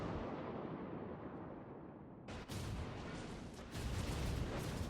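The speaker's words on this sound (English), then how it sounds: "there are a lot of enemies firing at me" Heavy naval gun salvos from enemy warships in World of Warships roar in with a sudden loud boom after a low rumbling lead-in, followed by further dense blasts; no talking.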